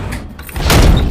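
A door slamming shut, a single loud, close thud with a brief rattling tail.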